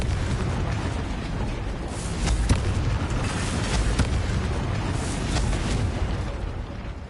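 Confringo blasting spell from a Harry Potter style video game, a sustained rumbling explosion with a few sharp cracks on top, loud and close with no talking.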